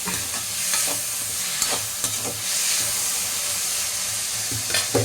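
Curry leaves crackle and sizzle in hot oil in a pan, a steady broadband frying hiss with a few sharp pops and stirring scrapes, close and fairly loud throughout, no voices.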